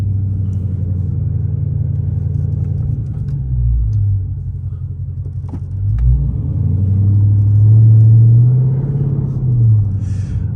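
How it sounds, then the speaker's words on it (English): Deep, loud exhaust rumble from a catless Dodge Scat Pack on the road in Texas, a steady low drone that swells and ebbs as the engine revs up and settles back down. "I want y'all to hear how loud this car is, man."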